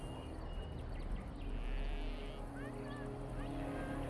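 Mournful, lowing cries of halla, the deer-like beasts of the Dalish elves in the fantasy game Dragon Age: Origins, sound over a dense, steady ambient bed, with a few short, faint wavering calls toward the end.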